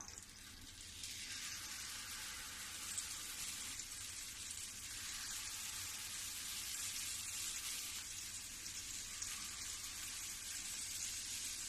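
Malai raspua batter frying in hot ghee, a steady close sizzle and crackle that holds evenly with no voices.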